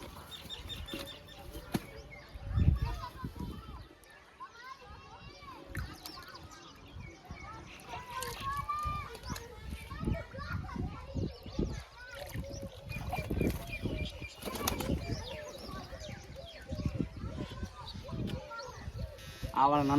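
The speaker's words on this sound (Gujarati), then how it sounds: "આ જો આ કબૂતરો પણ બહુ મસ્ત છે" Pigeons flap their wings in short, irregular flurries of fluttering close by, mixed with soft bird sounds while a person talks over them.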